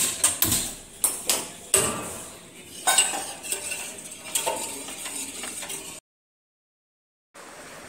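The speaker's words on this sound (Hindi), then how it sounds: "और अब मैं बर्तन साफ कर रही हूँ" Metal utensils and pots clatter and clink during dishwashing at a home kitchen, sharp knocks in quick succession then a steadier scraping wash, with a brief silent gap near the end.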